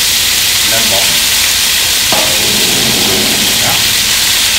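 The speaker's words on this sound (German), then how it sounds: "Erst wenn das Öl so heiß ist, dass es dampft, kommt schließlich das Fleisch in die Pfanne." A steady, loud hiss of meat sizzling in hot oil in a pan fills the whole stretch, with faint clinks and a voice murmuring underneath.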